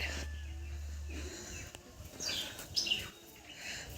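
Small birds give a few faint, high chirps and tweets against a quiet background with some low rumbling noise early on.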